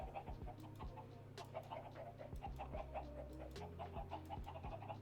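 Chickens clucking in an egg farm of about sixteen birds in the Minecraft modpack ATM10, repeated short clucks and squawks from several birds overlapping in an irregular, busy chatter at moderate level.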